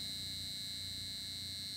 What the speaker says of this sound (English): that's all what you need to switch this buzzer on